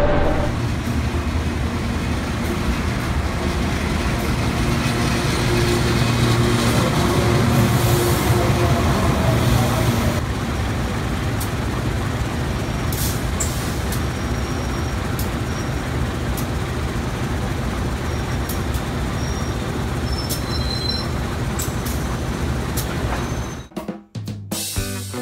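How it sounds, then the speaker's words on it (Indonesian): The Sritanjung economy-class passenger train runs from Lempuyangan to Ketapang, a continuous rumble of rolling wheels and carriage noise heard from on board, steady for most of the run, with a brief disturbance near the end. "Kereta api Sri Tanjung merupakan layanan kereta penumpang kelas ekonomi relasi stasiun Lempuyangan sampai stasiun Ketapang"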